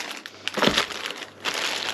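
A plastic bag crinkles and crumples while a Penn Fathom II fishing reel is unboxed. A few sharp, close rustling bursts stand out, the loudest around the middle, with quieter crinkling between them.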